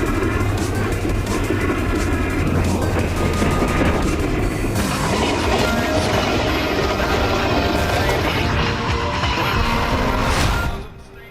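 A speeding train in the racing game Need for Speed The Run, a loud sustained rumble with clattering and booming under continuous game noise, ending abruptly near the close.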